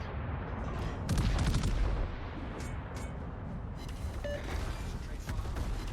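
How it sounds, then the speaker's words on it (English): Naval guns from an enemy battleship boom in a warship video game, a few deep rumbling blasts and crackles at moderate distance amid continuous game noise. "He's bringing his guns to bear."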